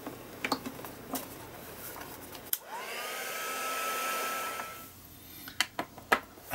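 Heat tool blowing on a painted art journal page, a steady close whooshing roar that lasts about two and a half seconds, framed by sharp clicks and taps before and after.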